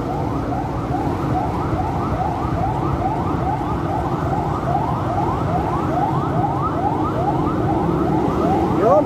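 An ambulance siren wails in a steady repeating sweep through traffic, loud and close over a constant engine and road rumble for the whole stretch.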